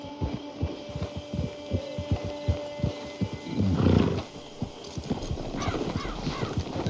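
A horse's hooves clip-clop in Red Dead Online, a steady close rhythm of distinct thuds at a walking pace, briefly covered by a louder rush of noise midway before the hoofbeats continue.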